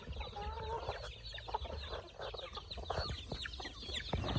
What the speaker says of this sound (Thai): ก็จะมีไก่มีเป็ดวิ่งมาต้อนรับนะครับ